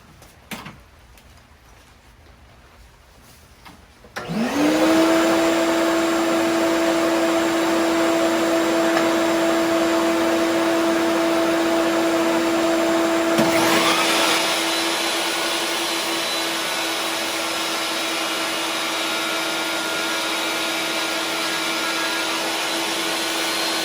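A table saw spins up and runs steadily while cutting a slot into a wooden frame, a loud sustained motor whine with no voices.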